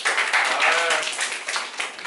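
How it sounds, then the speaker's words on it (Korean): A burst of applause from a room full of people, dense clapping that swells and then tapers off. "박수 한 번만 쳐줄까요?"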